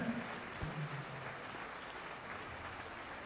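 Audience at the awards gala of the 2017 Jeux de la Francophonie breaks into sustained applause, a dense, even wash of many hands clapping that holds steady throughout, with a faint tonal note at the start.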